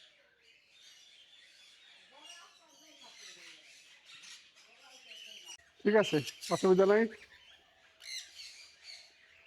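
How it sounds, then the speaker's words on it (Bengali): Cockatiels perched in a garden bird enclosure give faint chirps, then a short burst of loud squawking calls partway through, while people nearby talk quietly. "বড় বড় ককাটেলও আছে, এই যে বসে আছে"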